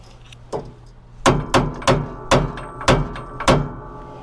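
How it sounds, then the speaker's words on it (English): A hammer strikes a tie rod end on a 2017 Ford F350 4x4 to knock it loose, seven sharp metallic whacks, the first single and the rest in a quick uneven series, close and loud in a quiet garage. "we can kind of whack it with the hammer, pop it loose."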